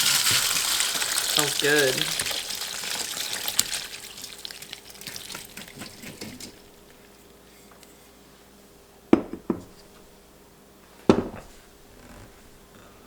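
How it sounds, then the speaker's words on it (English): Fermented pepper brine is poured through a large strainer into a bowl, a loud gushing splash that tapers to trickles, followed by a couple of sharp clunks; a voice speaks briefly over the pouring. "I have a rather large strainer and bowl, and I'm going to strain all of the pepper solids out."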